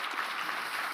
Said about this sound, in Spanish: Este aplauso para todos ustedes.